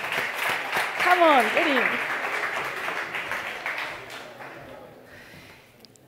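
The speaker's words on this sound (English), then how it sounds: "So let's do a big applause and welcome them immediately." Audience applause welcoming panelists onto a startup conference stage, broad clapping from a crowd that swells and then gradually fades out, with someone speaking briefly over it.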